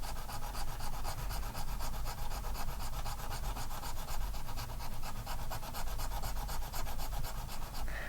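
A hand file shaves down the top of a guitar nut in rapid, steady back-and-forth rasping strokes, close and continuous.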